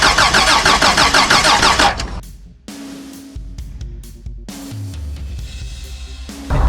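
A Toyota Land Cruiser with an undersized battery cranks loudly on starting fluid, the starter whirring unevenly for about two seconds before the engine catches and settles into a rough, low idle with a brief surge near the end.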